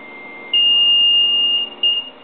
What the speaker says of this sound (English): The alarm starts on the 6200.